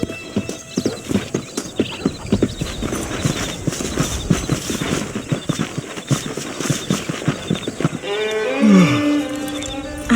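Horse hooves clip-clop in a steady, brisk rhythm as a horse is ridden across open ground in the Western video game Red Dead Redemption, loud and close, ending with a horse snorting and whinnying.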